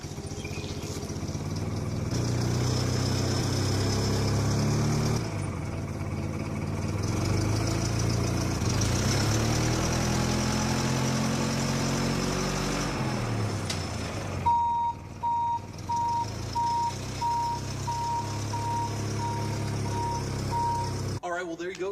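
Forklift in a bus simulator game mod, its engine idling and revving in a low continuous drone, then regular reversing beeps pulse steadily over the motor near the end.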